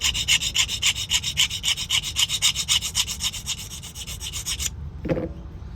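A 2002-2008 Honda key blade is sanded along its width in steady, rapid back-and-forth rubbing strokes, close and fairly loud, that stop near the end and give way to a brief knock.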